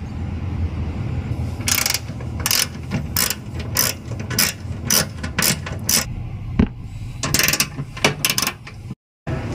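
A ratchet spins out four bolts from a van seat swivel platform in an RV, a run of close, rapid clicking bursts separated by brief pauses, with a short silence near the end.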